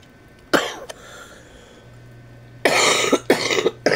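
A person coughing, a single harsh cough followed later by a cluster of several rough coughs in quick succession, close and fairly loud against a quiet room.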